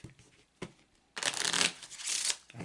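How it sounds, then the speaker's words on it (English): A deck of Kipper cards being shuffled by hand: a couple of soft taps, then a dense, close crackling riffle lasting over a second before trailing off. "So I'm going to shuffle one more time."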